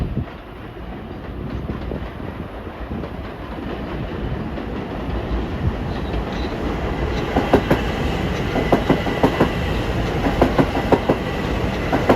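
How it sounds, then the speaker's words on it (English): An LIRR train, number 860 from Grand Central to Long Beach, rushes past at Woodside, a steady loud roar with clickety-clack wheel rhythm building through the pass and no voices. "Next up at 4:10 is train 860 from Grand Central to Long Beach"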